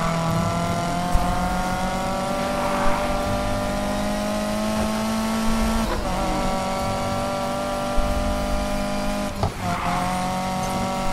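Race car engine in Need for Speed Payback, droning loudly and continuously while shifting pitch, with occasional tire squeals and brief bumps across the run.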